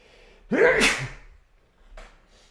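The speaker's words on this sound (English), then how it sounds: "Hold on, I got to sneeze." A single loud sneeze up close, followed by a brief softer breath or sniff.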